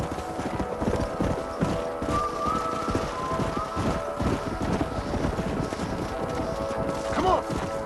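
Horses' hooves clip-clop steadily on the ground in Red Dead Redemption, a continuous close, even rhythm of several animals moving together, with faint wind noise and a brief whinny near the end.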